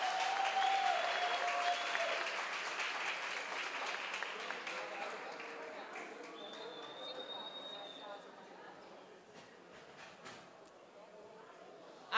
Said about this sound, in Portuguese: Uma salva de palmas para as duas meninas.